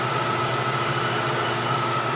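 Steady high-speed whine of a Bridgeport milling machine spindle running at high RPM in a shop, cutting a bolt pattern on a boat jet drive housing; continuous, fairly loud and even, with a sharp high tone over a broad mechanical hum, no talking.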